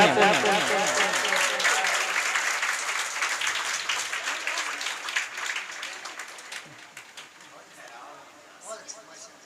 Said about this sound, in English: Ansari Adil, clap for him.